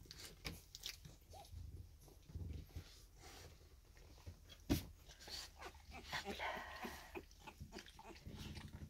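A Staffordshire Bull Terrier puppy in a litter whimpers and snuffles softly at close range, with chewing and small mouth sounds, faint and irregular throughout.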